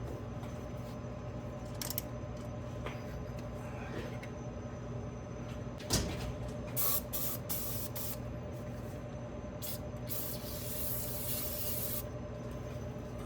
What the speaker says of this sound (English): Put some silicone spray on this belt for right here.